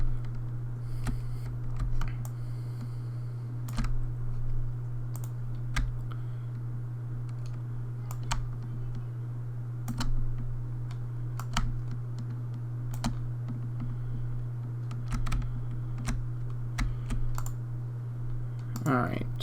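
Typing on a computer keyboard while designing a website, scattered key clicks in short bursts over a steady low hum, with someone talking quietly under the keystrokes.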